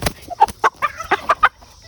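A heavy rooster being carried gives a run of about seven short, sharp clucks in an uneven rhythm, close and fairly loud over quiet background.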